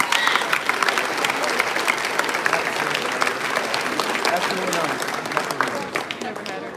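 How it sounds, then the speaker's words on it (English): At a middle school graduation ceremony, a crowd applauds a retiring teacher with sustained, even clapping, a few voices murmuring within it. "so a little round of applause there for Mrs."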